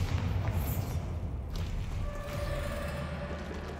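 A Bombarda explosion spell bursts in Hogwarts Legacy, a dense low rumbling boom sustained across the clip with a whooshing rush layered over the blast, with no talking.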